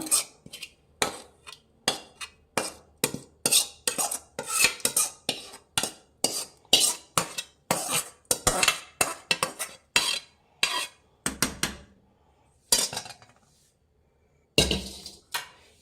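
A spoon stirs a tempering of spices into a pot of bisi bele bath, a South Indian rice-and-lentil dish, with quick, close metallic clinks and scrapes against the vessel that pause briefly near the end before resuming.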